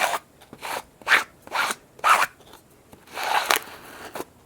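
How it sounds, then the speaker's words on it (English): An old credit card drags Stop Fraying Glue across fabric for an appliqué in repeated short scraping strokes, about eight rasping swipes at an uneven pace, close and fairly loud with no voices. "I'm going to squeegee it on, and I'm just using a old credit card."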